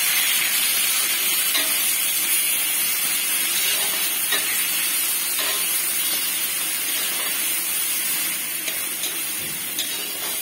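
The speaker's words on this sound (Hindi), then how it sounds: "अदा रसुण कंचा लंका ताकू पेस्ट आमे इथिरे पकईदेवा" Ginger, garlic and green chili paste frying in a hot pan, giving a steady, loud sizzle and hiss close by with no talking.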